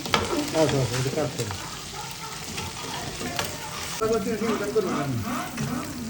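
Fish frying in a pan, giving a continuous sizzle and crackle with some stirring, while someone talks intermittently over the cooking.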